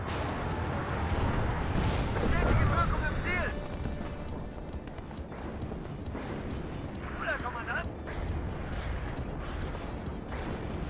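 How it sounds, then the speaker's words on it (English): Artillery shells pound a battlefield in the Cold War strategy game WARNO, a steady rumble of distant booms and crumps running throughout, with radio-style voice chatter over the barrage. "Artillery is pounding left flank."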